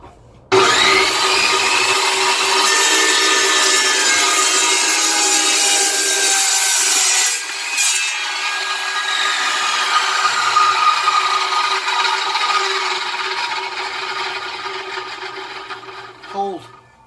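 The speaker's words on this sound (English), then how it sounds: "This is the first time I've actually ever cut through aluminium with this machine" An Evolution Rage 2 saw cutting through a clamped piece of aluminium, a loud continuous grinding, rasping cut that runs steadily for several seconds before winding down and stopping.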